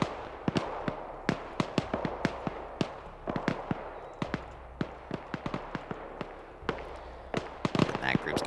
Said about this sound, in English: Start gunfire, yep.